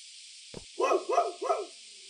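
A dog in a horror exploration video game barks three times in quick succession, fairly loud over a steady hiss, after a brief thump.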